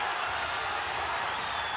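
A boxing arena crowd roars in a steady, loud wash of distant cheering and shouting, dense and continuous with no single voice standing out.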